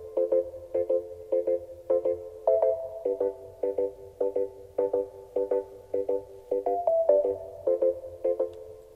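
Afrobeat beat's main vamp, a bright plucky synth riff repeating short staccato chords in a bouncy syncopated loop over a soft low pulse, moderately loud with no voices.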